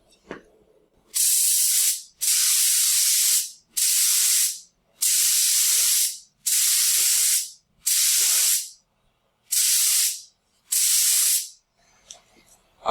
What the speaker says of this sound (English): we are ready to shoot finish on our little piece here